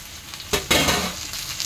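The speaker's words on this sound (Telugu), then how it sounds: "ఇప్పుడు టమోటా వేస్తూ ఉన్నాను." Chopped tomatoes hit a hot pan of roasted onion, raising a steady loud sizzle that surges as they drop in and keeps crackling close by.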